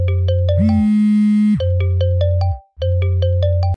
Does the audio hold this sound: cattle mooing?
no